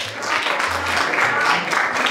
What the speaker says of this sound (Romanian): Merit aplauze!